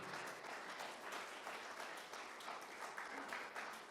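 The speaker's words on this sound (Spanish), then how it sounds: "Si estás acá, dale palmas al Señor." A church congregation claps for the Lord in a continuous, dense round of applause, many hands together at a steady level, heard faintly and from a distance.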